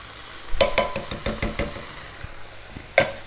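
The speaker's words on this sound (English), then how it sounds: "We're going to put in now our can of tomatoes." San Marzano tomatoes from a can tip into a pan of frying chilli beef, giving a few sharp wet thuds and a burst of louder sizzle over the steady background crackle.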